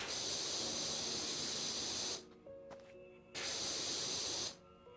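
A pressure washer in PowerWash Simulator hisses in two bursts of broad spray, each ending abruptly, with quiet gaps between where faint tones remain.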